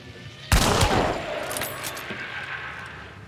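A single loud gunshot from the video game Hunt: Showdown cracks suddenly and trails off into a long echoing decay.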